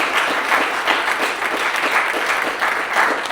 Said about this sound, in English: Can we get applause for that?